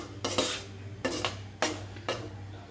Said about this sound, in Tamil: நல்லா அது மசாலாவோட மிக்ஸ் ஆகிற மாதிரி நல்லா நம்ம கிண்டி விட்டுக்கலாம்